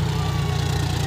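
John Deere 5105 40 hp tractor with its engine working hard pulling a tiller about 5 inches deep in a wet, weedy field, giving a steady, loud, low diesel drone that stays unbroken throughout.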